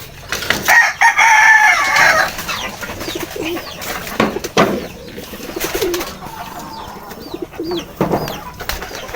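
A pigeon brooding on its eggs, giving soft cooing and clucking calls close by, with a louder burst near the start and scattered shorter calls afterward.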